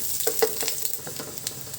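Onion sautéing in a pan for a sardine and moringa pod dish, a close crackling sizzle with quick stirring scrapes over a short moment, no voices.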